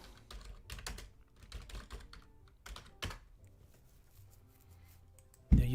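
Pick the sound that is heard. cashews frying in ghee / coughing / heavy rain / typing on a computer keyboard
typing on a computer keyboard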